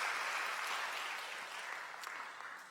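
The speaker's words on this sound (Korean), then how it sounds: "환영의 박수 부탁드립니다." A church congregation applauds in welcome during a Sunday service, soft, distant clapping from many hands that slowly tapers off.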